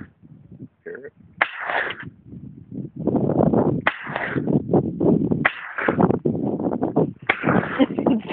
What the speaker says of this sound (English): 20 gauge shotgun.